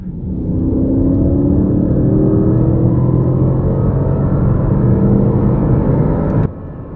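A Mercedes AMG GLE63S Coupe pulls hard on a freeway, its engine note a loud, sustained rising roar heard from inside the cabin, cutting off abruptly near the end.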